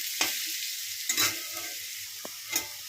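Plain potatoes, boiled with salt beforehand, frying in a pan: soft sizzling under a handful of scraping stirs and light clinks of a utensil against the pan, fairly quiet and close, no voices.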